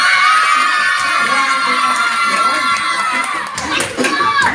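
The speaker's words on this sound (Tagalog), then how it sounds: "Isang malakas ang palakpakan at sigawan nga dyan." Children at a first birthday party with a Jollibee mascot clap and shout together in a loud, continuous crowd roar that holds steady for several seconds, with some brighter cries near the end.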